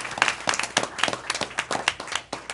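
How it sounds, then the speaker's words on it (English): Audience clapping at a school board meeting for students and leaders, a brief round of applause from a modest crowd, close and irregular, with no talk over it. "if we can give our students and our leaders a round of applause"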